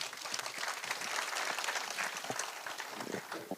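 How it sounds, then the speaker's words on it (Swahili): A crowd at a public security forum in Kiambu Town claps in sustained, dense applause, loud and continuous throughout with no talking over it. "Pigia makofi, Commissioner."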